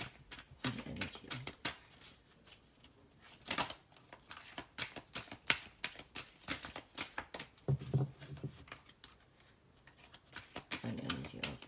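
Tarot cards are shuffled by hand in quick, quiet bursts of riffling and flicking, close and soft, with short pauses between runs.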